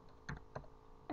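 A few quiet, close keystrokes on a computer keyboard, two or three separate taps within about a second, followed by a brief louder rustle.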